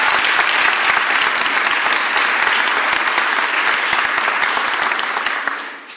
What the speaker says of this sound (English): give Harry a round of applause, please